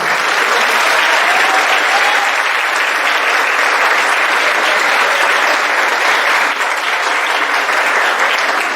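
A church congregation applauds steadily and loudly through a thanksgiving service marking a 50th anniversary, a dense unbroken wash of many hands clapping with faint voices mixed in.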